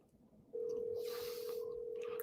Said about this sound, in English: I'm calling him now.